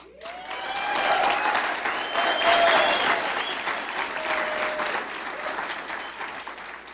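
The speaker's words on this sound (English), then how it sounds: "This is easy applause, by the way." Warm audience applause at a town hall meeting about a toll road extension in San Clemente, swelling and then tapering over several seconds, with whoops and scattered voices mixed into the clapping.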